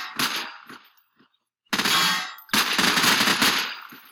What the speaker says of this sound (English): Stop shooting each other, hop in, we got more to explore.